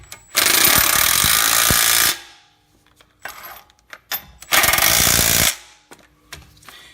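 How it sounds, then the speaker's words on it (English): An impact wrench drives axle bolts home during a driver's side axle seal replacement on a 2007-2017 Ford 6F50 six-speed transmission, two loud sustained hammering bursts separated by a gap with small clanks and handling noises. "We're safe to go ahead and impact them in."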